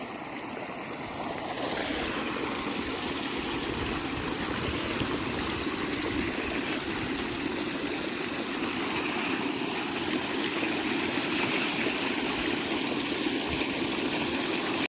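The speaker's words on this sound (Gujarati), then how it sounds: "આપણે અહીંયા બે કૂવાની મોટર કરી દીધી ચાલુ" Two well pump motors drive water gushing continuously into a pit, a steady, close rushing flow that holds unbroken throughout.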